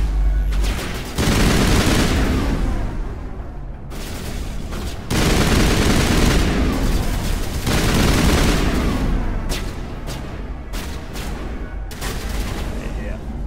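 Sustained assault rifle fire in a Mass Effect firefight: long, loud bursts of rapid gunfire separated by short gaps, with booming impacts and a few clipped single shots near the end.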